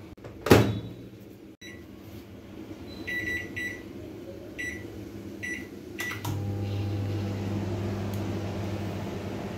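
A microwave oven roasting peanuts on a plate: a sharp clunk of the door, a few short button beeps, then a steady low electrical hum that runs to the end, close by and with no talking.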